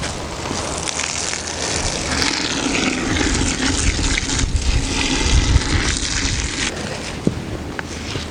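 A drill-driven paddle mixer churns Total Flex mortar powder with water in a bucket, a loud, continuous, close grinding whir with gritty scraping that holds steady throughout.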